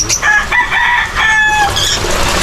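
Chickens cluck nearby while a rooster crows loudly in a drawn-out call, with more clucking continuing after.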